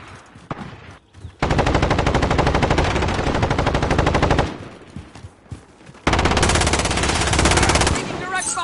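Rapid automatic gunfire in the video game Call of Duty, two long, loud bursts of fast machine-gun fire with a short gap between them and brief quieter game sounds at the start and in the gap.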